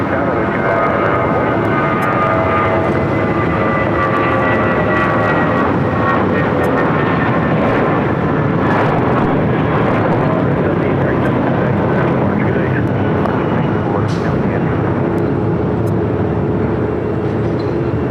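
A United airliner takes off from runway 25 right at LAX, a loud, steady jet roar that holds throughout while a radio voice talks over it.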